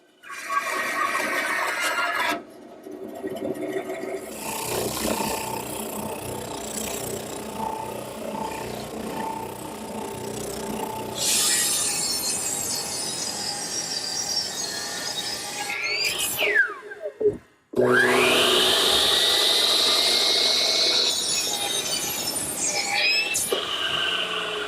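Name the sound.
bandsaw cutting decorative curve in wood gate stock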